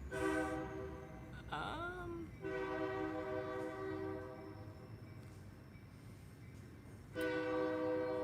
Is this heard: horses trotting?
no